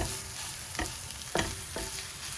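Prawns simmer directly in Goan balchao masala in a pan, giving a steady soft sizzle broken by a few scraping stirs of a spoon, close and alone with no voices.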